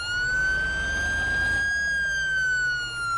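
A fire truck siren wails steadily in the video game Into the Flames, a loud, sustained electronic tone drifting slightly in pitch over a low engine rumble, with no voices.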